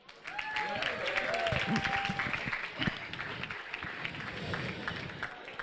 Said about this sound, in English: Guys, I'm sure you can give a big round of applause for them.